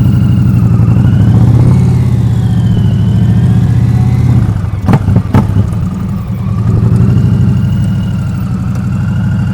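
A 2023 Indian Pursuit Elite motorcycle rumbles at low speed through tight maneuvers, its engine loud and close with gentle rises and falls in pitch and a short burst of clatter midway.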